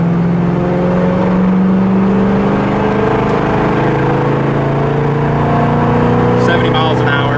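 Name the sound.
1976 Firebird car engine while driving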